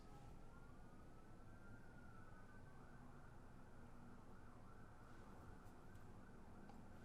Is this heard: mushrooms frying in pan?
no